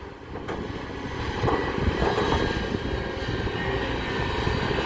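A steady, loud Hino turbo diesel engine in a Kobelco SK200 excavator drones at a constant pitch around 2,000 rpm, running continuously with a broad low rumble and no voices.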